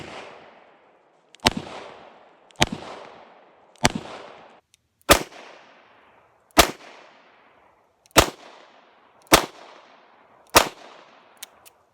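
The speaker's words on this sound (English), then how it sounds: "let's do 5 shots, 10 yards, all double action" Eight loud, sharp gunshots from a Taurus Public Defender Poly revolver firing .45 Colt double action, spaced about a second or more apart, each with a ringing decay, no talk.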